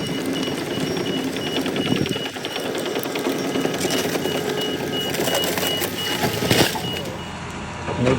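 Wooden farmhouse, garage and outbuildings being pulled down during a farm demolition, a continuous loud crunching and splintering roar of breaking timber with machinery underneath, surging in a heavy crash near the middle and again toward the end.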